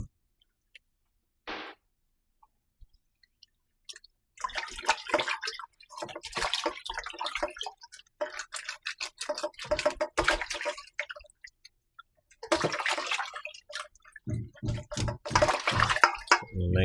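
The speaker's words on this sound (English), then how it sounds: "now I'm going to wash the fish then." Red snapper is washed under running water, with intermittent splashing, dripping and handling noises in a kitchen sink, starting quiet and then coming in close, uneven bursts.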